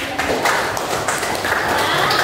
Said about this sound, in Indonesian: berikan tepuk tangan untuk 3 teman kalian